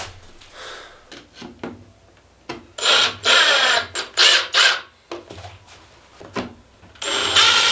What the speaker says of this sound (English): I'm just gonna tack it down with some screws